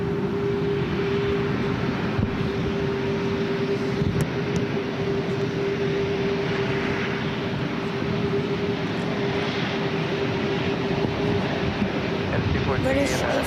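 A Condor airliner rolls for takeoff at SFO, a steady loud engine roar with a strong sustained tone, continuous throughout; a radio voice may be faintly present beneath.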